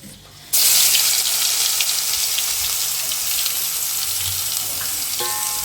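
A loud, steady sizzle of ginger and garlic frying in oil bursts in suddenly and carries on without pause.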